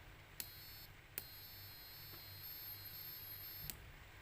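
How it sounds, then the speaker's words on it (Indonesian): An electronic buzzer emits a high, continuous beeping tone, faint and steady, switching on and off with small clicks. "LED-nya menyala dan buzzer juga menyala ya, berbunyi ya"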